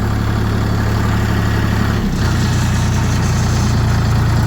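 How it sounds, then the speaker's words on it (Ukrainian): A DTZ tractor engine runs steadily at a low, even rumble, close and loud, with a brief dip in the hum partway through. "Очень мягенько мотор ходит"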